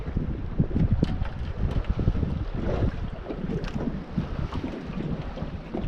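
Strong wind roars and buffets the microphone on a boat while checking longlines on the water in the evening, a constant rough rush with gusts and faint splashes; someone says a single word briefly.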